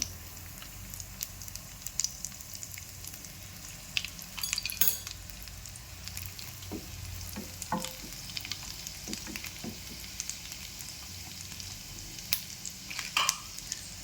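Almonds frying in ghee in a pan, a steady soft sizzle with scattered small pops and a few light clinks of a utensil against the metal.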